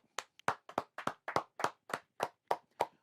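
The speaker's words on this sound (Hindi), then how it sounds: "तालियां हो जाएं" About ten distinct hand claps, close and fairly quiet, come in a slow, even rhythm during an online course prize ceremony, with near silence between them.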